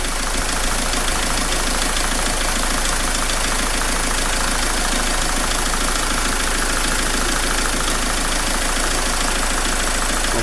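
Dacia Logan dCi diesel engine with a Delphi system idling after a diesel cleaning treatment: a steady, loud, close clatter with an even knocking rhythm and no breaks.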